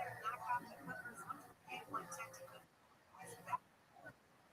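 A dog whimpering and yipping in short bursts, fairly faint, with people talking over it.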